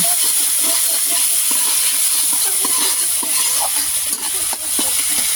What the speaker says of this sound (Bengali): মশলাটা যাতে পুড়ে না যায় তার জন্য অল্প পরিমাণে জল দিয়ে দেব। আবারও কিছুক্ষণ এটাকে ভালো করে কষিয়ে নেব।